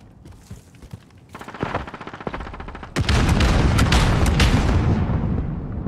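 Machine gun fire in Call of Duty Modern Warfare, starting with scattered shots and building into a loud, dense sustained burst of rapid gunfire with booming impacts.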